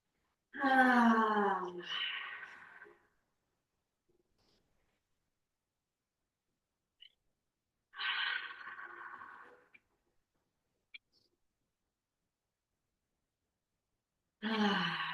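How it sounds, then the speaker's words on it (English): Deep, slow breaths during a somatic yoga practice, three long breathy exhales close to the microphone separated by long silences, the first with a voiced, sigh-like quality. "Take between 3 and 5 deep, soulful breaths."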